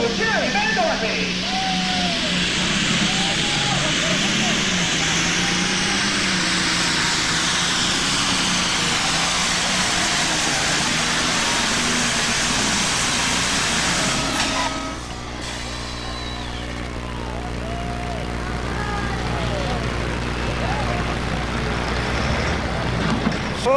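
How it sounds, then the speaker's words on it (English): The Screaming Demon 2 super stock pulling tractor roars loudly and continuously under an announcer's voice at a 1994 Imlay City, Michigan pull, its engine note shifting partway through but never letting up. "Jerry travels all over the United States with his tractor. The Screaming Demon 2, Jerry Vandorpe."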